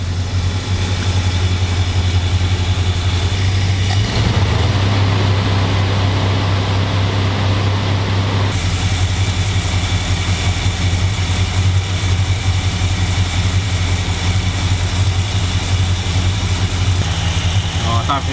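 A Dodge Coronet engine idles steadily during a test of its automatic choke, giving a constant low rumble that runs the whole way through while people talk nearby.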